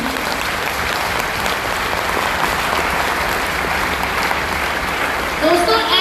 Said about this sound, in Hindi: एक बार जोरदार तालियां बजा सकते हो उनके लिए।